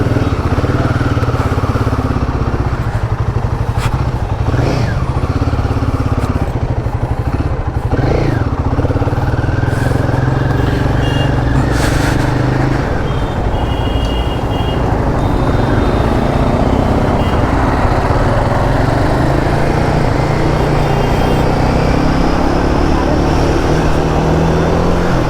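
Steady, loud engine drone from a motorcycle on a test ride, with revs climbing and easing as it rides along, joined by passing traffic and road noise.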